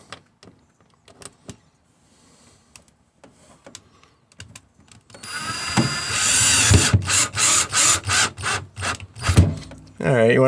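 A power drill drives a self-tapping screw into an RV roof during a MaxxFan Deluxe roof fan installation. Faint clicks come first, then a close, loud burst of short whirring pulses with brief pauses between them.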